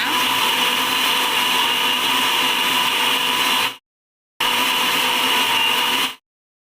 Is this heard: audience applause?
no